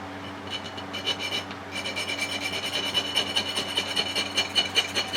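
A small square file rasps outer burrs off a metal lathe chuck backing plate in quick, rhythmic back-and-forth strokes. The filing is close and fairly steady, with a brief pause near the start and no voices.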